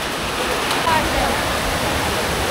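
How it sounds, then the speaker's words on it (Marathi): Foaming, milky white water pours over the waterfall at Marleshwar temple in the Konkan, a steady loud rushing roar that continues unbroken throughout. "पाणी बघा कसलं पेसाळ आहे,"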